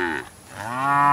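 A single water buffalo lows alone and loudly for about a second, starting strong, dipping briefly, then swelling into a long drawn-out tone.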